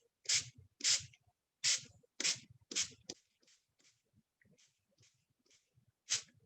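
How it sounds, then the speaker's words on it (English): Spray bottle misting water over a card, in a series of short sharp hissing bursts, five close together and then one later, with quieter faint sprays between them. "And now I'm going to spray with the water."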